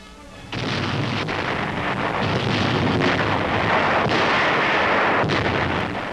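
RAF Lancaster bombs, from 500-pounders to blockbusters, explode over the industrial city of Pforzheim in Germany in wartime, a loud continuous roar of blasts and rumbling with sharp impacts after a sudden onset.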